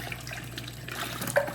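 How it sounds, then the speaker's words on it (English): Cool tap water runs over a hand-knitted item being rinsed in a sink, a soft steady trickle and splash nearby with a few small drips and no voices. "rinse it in cool water,"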